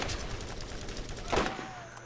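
Gunfire in Borderlands, a dense, steady clatter of shots at moderate loudness, with a brief rising whistle-like tone near the end.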